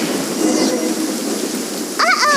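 Steady rain and rumbling thunder fill a stormy scene in the Genshin Impact video game, a continuous wash of downpour throughout, with a brighter crackling burst near the end.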